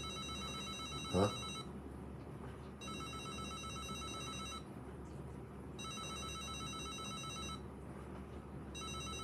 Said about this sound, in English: It's a fucking phone ringer.